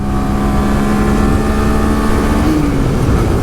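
A 2025 Honda Grom motorcycle held at wide open throttle in fifth gear on a highway, rider tucked, gives a loud, steady engine drone mixed with wind rush, its pitch shifting slightly as it keeps pulling.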